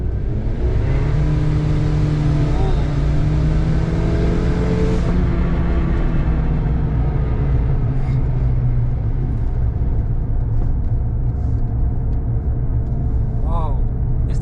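A Suzuki Wagon R Wide kei car with front-wheel drive accelerating hard, engine drone rising in pitch and then levelling into steady road and engine noise heard from inside the cabin, with a voice talking over it.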